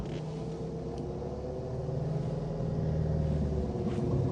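A Vauxhall Corsa D in spares-or-repair condition pulling away in first gear, a steady low engine drone that swells slightly as it moves off, heard from inside the car with no talking.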